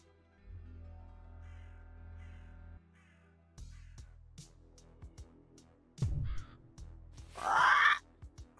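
Crow cawing in the Yaga video game; a few harsh, loud caws near the end, after a stretch of soft low game tones and hums.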